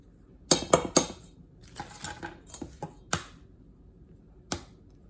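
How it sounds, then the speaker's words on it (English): An egg cracks against the edge of a bowl holding combined butter and flour for Indonesian empanada dough, a handful of sharp clicking taps and clinks in quick clusters, close and clear with no talking. "Now I'm going to break my egg."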